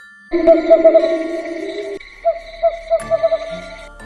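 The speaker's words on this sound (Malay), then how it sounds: "Sesekali aku terdengar sayup-sayup bunyi burung hantu." An owl hoots repeatedly in soft, hollow calls, a steady low tone lingering beneath them.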